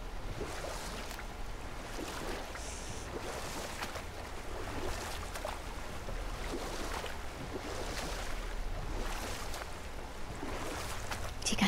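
A boat gliding across water in the game God of War, a steady wash of lapping waves and oar strokes with a faint wind, continuous and moderately quiet, no talk.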